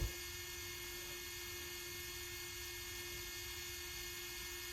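Fanttik F2 Master cordless 4V rotary tool spinning at high speed, about 21,000 RPM, giving a steady, even motor whine with a constant pitched tone that holds unchanged throughout, heard alone.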